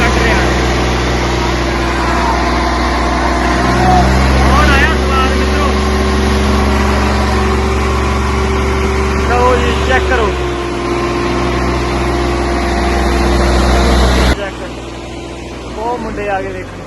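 A home-modified tractor engine runs steadily with a low, throbbing hum, loud and close, while people talk over it; the engine cuts off near the end.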